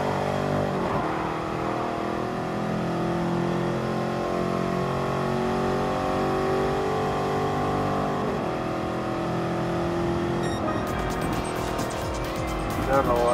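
Race cars roar and squeal their tires in the Gran Turismo Sport racing game, with a sustained loud engine drone, skidding and shifting pitch as cars pass and spin, all under a player talking over the action.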